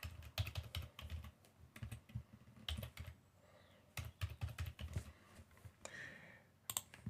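Keys clatter on a computer keyboard in quick bursts with short pauses as a simple password is entered for a new local admin account during Windows 11 setup, close and clear with no talking.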